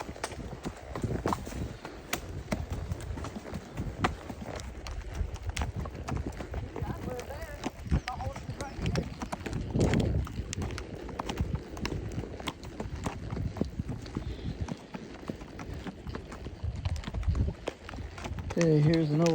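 Horse hooves clip-clopping steadily along a trail during horse camping, close and continuous over about twenty seconds, with irregular rustling and occasional talk mixed in.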